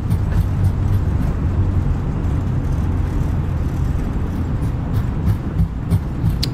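Airbus A320 reverse thrust during landing rollout in Microsoft Flight Simulator 2020, at Gatwick: a steady, loud, broadband engine roar with heavy low rumble sustained throughout, no talking.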